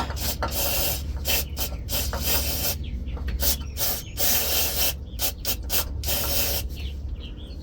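Repeated bursts of aerosol cleaner spray hissing from a can onto a transmission connector of a 2002 GMC Sierra, several short and long blasts in an uneven rhythm, close by with a steady low hum underneath.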